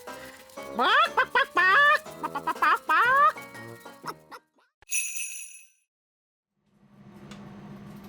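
A cartoon chicken clucks in a rapid run of squawky, sing-song calls, followed by a bright tinkling chime and then a soft, low background murmur.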